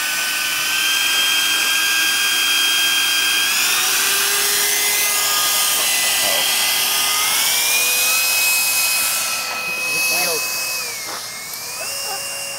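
A Gyro Jet model gyrocopter's electric motor whines loud and close during a shaky takeoff, its high pitch stepping upward and wavering as it strains to lift, easing briefly near the end.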